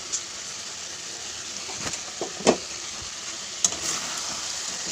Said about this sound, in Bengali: পাশে গোস কষাচ্ছি